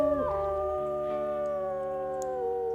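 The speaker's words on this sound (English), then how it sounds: "Let's go ahead and howl this hex down really quickly." In the video game WolfQuest, a wolf lets out a long, sustained howl that rises, then holds a steady, slowly falling tone, loud and close with clear harmonics and no talking over it.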